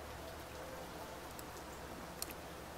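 Soft, steady rain hiss from the Niche creature-breeding game, faint and continuous with a few light ticks, no voices.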